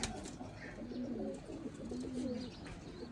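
Pet pigeons in a loft cooing, soft low throaty coos repeating in a gentle rhythm close by, with faint chirps and background rustle.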